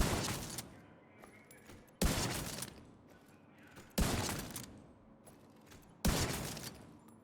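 Four loud sniper rifle shots from a Model 700 in a shooter video game, evenly spaced about two seconds apart, each a sharp crack with a long decaying echo and mechanical tail, with no talking.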